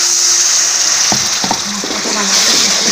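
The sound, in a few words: water added to frying spice masala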